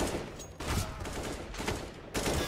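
Gunfire in the video game Counter-Strike during a player's frag: several loud, sharp bursts of automatic rifle fire in quick succession, close and dominant.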